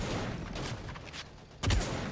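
Rapid gunfire rattles through a match of the shooter game Angels Fall First, with a loud, close burst of shots near the end.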